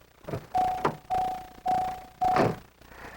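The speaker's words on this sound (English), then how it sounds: "Also standard are a headlights on indicator and chime, which also sounds to remind you of seat belts and key left in the ignition." A 1985 Buick Riviera's headlights-on indicator chime sounds four times in an even rhythm, each a clear mid-pitched tone lasting about half a second, close and distinct with no talking.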